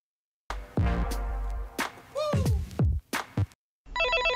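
After a jumble of loud, sharp noises, a telephone begins ringing near the end, with a brief, bright, repeating electronic trill.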